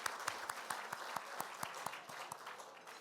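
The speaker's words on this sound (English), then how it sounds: "Round of applause for all of them." Applause from an audience at a National Press Club presidential inauguration ceremony, a steady round of clapping with sharp individual claps standing out over the crowd, moderately distant and lasting the whole stretch.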